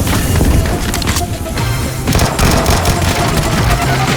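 Gunfire from the video game Battlegrounds played on a Samsung TV, dense rapid shots and crackling impacts with booming low end, loud and continuous.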